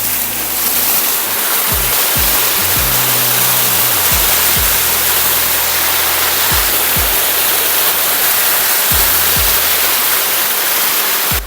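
Waterfall at Mannathipara, Chelakkara in the Western Ghats, roaring loud and close as a dense, unbroken rush of water, with a few low thumps underneath and no voices.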